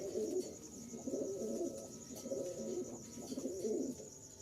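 Soft, repeated cooing from silver or ash-coloured tumbler pigeons, steady low warbling phrases close by with no talk over them.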